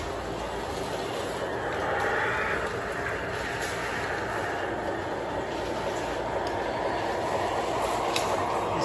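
A Lionel toy train runs steadily along its track, a continuous close rumbling whir with faint rail clatter, holding an even level throughout with no talking.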